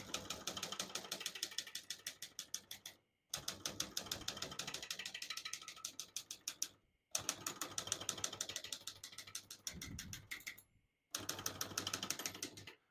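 Rapid, crisp keystrokes clatter from a 1953 Smith-Corona Skyriter portable typewriter, coming in three long, steady runs of typing separated by short silent pauses, with a faint slide or bell-like sound near the end of one run, close and clear.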